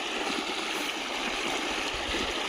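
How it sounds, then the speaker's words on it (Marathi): A 5 hp solar-powered water pump motor runs on a farm, giving a steady, continuous rushing hum with water flow, moderately loud and unbroken throughout. "आता ही मोटर चालू आहे."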